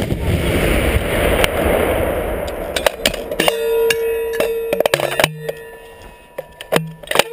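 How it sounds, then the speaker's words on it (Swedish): Military gunfire during Swedish soldiers' training, a loud blast with a long rumbling decay followed by scattered sharp cracks and clanks from the firing position. "Skott, skott kommer!"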